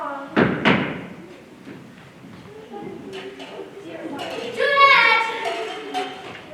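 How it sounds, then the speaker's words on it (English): A knock at a door in an old-style drama, a couple of quick loud raps near the start followed by voices talking. "I'm sure I heard a knock at the door."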